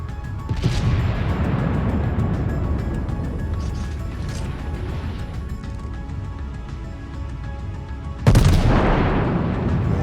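Naval warfare video game battleship guns, fired from the Iowa against a Tier 7 American North Carolina battleship, boom out in a loud blast early, a softer distant thump mid-way and another heavy report near the end over rumbling engine noise.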